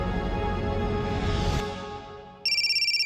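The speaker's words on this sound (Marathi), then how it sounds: "कोणाचा फोन आला?" A mobile phone rings with a bright electronic ringtone, repeating tones pulsing loudly and clearly after a swelling musical passage fades, with no voices present.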